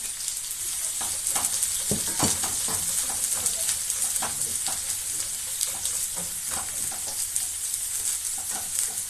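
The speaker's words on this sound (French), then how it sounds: "Je vais mettre mes oignons, mes l'ail et mes échalotes qui sont facultatives." Onions, garlic and shallots sauté in a hot pan, giving a steady, close crackling sizzle with occasional stirring clicks, running continuously without talk.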